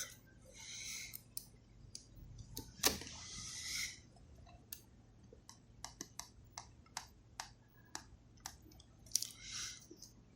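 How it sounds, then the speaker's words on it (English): Small screws being fitted and driven back into an Xbox Elite Series 2 Core controller during a back paddle repair: a string of close, sharp plastic clicks and ticks at irregular intervals, with brief handling rustles and no talking. "I need to put the screws back"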